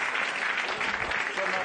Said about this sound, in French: Et on applaudit très fort.